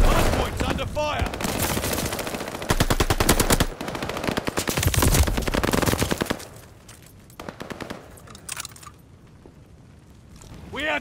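Video game gunfire around a contested hard point: dense rapid machine-gun bursts and rattling shots, loud and close, easing into sparser fire toward the end, with game voice callouts mixed in.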